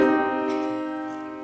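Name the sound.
minor third interval played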